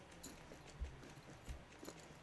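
Horse hooves clip-clop in Star Stable Online, a horse-riding video game: a few soft, sparse hoof thumps spaced about every half second, fairly faint over a quiet ambient game background.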